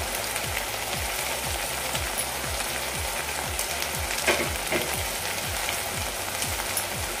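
Coriander and spices sizzle in hot oil tempering for soya khima, a continuous loud frying crackle with a regular rhythmic scraping of the spoon stirring the pan roughly twice per second, close by and without talk.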